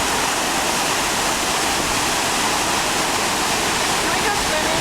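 The waterfall at Iguazu Falls, Argentina, pours down in a constant, loud broadband rush that stays even from start to finish, with no distinct voices over it.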